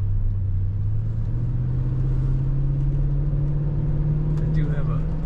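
A stock-sounding 2016 Toyota Tundra Crew 1794 Edition pickup with automatic transmission cruising on wet roads, its engine a steady low drone heard from inside the cab, with faint road rumble and no speech.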